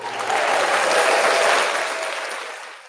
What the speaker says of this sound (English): We've got built-in applause.